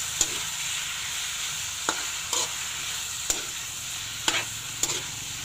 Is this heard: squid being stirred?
yes